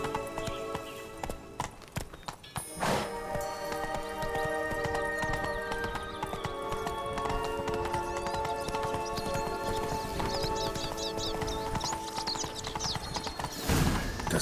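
A horse trots in The Witcher 3: Wild Hunt, its hooves clip-clopping steadily through the whole stretch under layered game music and creaking tack, with a snort or whinny near the start and end.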